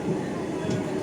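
The Hussain Sagar Express, in second-class AC on the Hyderabad to Pune route at Tandur railway station, gives a steady, even rumble of rolling train noise heard from on board, with a faint high hiss and no clear speech.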